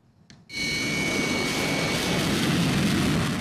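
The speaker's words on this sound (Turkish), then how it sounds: "Savaş uçakları havalandı." A sudden, loud roar of Chinese military fighter jets taking off during live-fire drills near Taiwan bursts in and holds steady, a powerful close engine blast filling the air.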